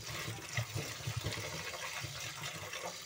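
Red amaranth greens being washed in plenty of water to rinse out sand, with a steady rush and slosh of running, splashing water throughout and no voices.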